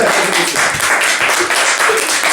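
A student party crowd breaks into loud, continuous applause for a guest of honour, a thick steady clatter of many hands with faint voices mixed in.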